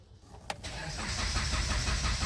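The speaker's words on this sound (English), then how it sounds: "it lets you crank the engine" A 2014 Jeep Compass with a fault that keeps it from starting has its engine cranked; after a brief click, a steady, continuous cranking whir fills the rest of the short stretch, close and loud, without catching.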